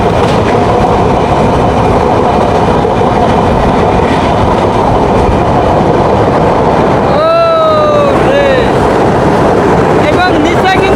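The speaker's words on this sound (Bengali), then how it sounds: "যমুনা রেল সেতুতে প্রবেশ করতেছি" The Bonolota Express, a nonstop train on broad-gauge dual track, enters the Jamuna rail bridge at about 75 speed. A constant loud roar of wheels and carriages runs throughout, with brief squealing whistle-like tones near the end.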